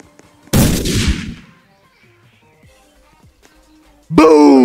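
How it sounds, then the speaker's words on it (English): A flashbang grenade in a Roblox game goes off in a single loud, sharp blast that fades over about a second, followed by near silence, then another harsh burst at the end. "Flashbang! That was underwhelming."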